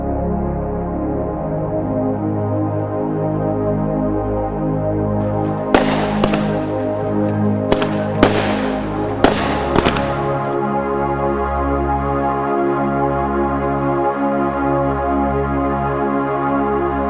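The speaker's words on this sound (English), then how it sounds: "And of course at the end we have some fireworks" Fireworks close out a summer Saturday night festival: a handful of sharp bangs at irregular intervals ring out over a loud, steady rumbling background.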